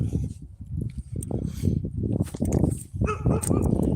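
A dog barks and yips at a passing walker in a short run of sharp, close barks with a few whimpers, while a person's voice is heard in the background.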